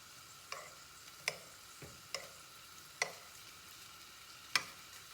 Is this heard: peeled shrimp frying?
yes